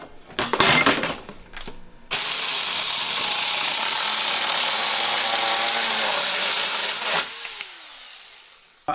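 A Huing mini chainsaw starts after some handling clatter and runs a steady, loud buzzing cut for about five seconds, then winds down with a falling whine as the chain slows.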